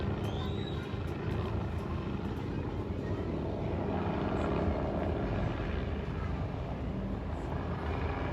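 Helicopters circle back and forth around the Malacañang office, heard as a continuous distant rotor and engine rumble that holds steady throughout.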